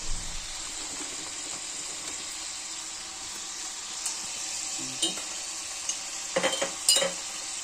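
Dried red chillies fry in hot oil, a continuous close sizzle with scattered crackles and a few sharper pops and clatters toward the end.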